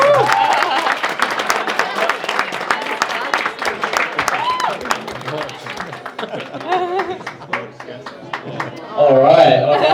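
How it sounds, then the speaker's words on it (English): Wedding guests at a Sydney reception at the Kirribilli Club clap for the brothers, a steady patter of hands with scattered laughter, while a voice keeps talking over it and rises near the end. "So please, guys, an applause for the brothers."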